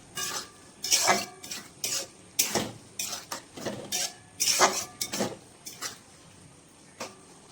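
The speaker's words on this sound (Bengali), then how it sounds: "পাস্তাটা দিয়ে খুব ভালো করে নাড়াচাড়া করে আমি এই যে স্যুপ মতো যেটা আছে, এই যে জলটা, এটা পুরোপুরি টানিয়ে ভালো ভাজা মতো একটু করে দেবো" Pasta being stirred and fried in a pan, heard as repeated scraping and clinking of a utensil against the pan in irregular bursts, fairly close, with no talking.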